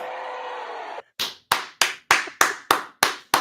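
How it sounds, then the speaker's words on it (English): A few hands clapping in a short, evenly spaced round of applause, about eight crisp claps close by after a steady held tone cuts off. "Round of applause for Chat"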